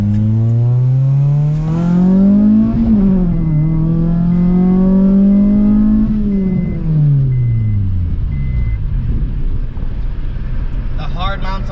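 A small single-cam Honda car engine revs up in a rising whine, dips and climbs again through two pulls, then falls away, loud and close with a steady drone throughout.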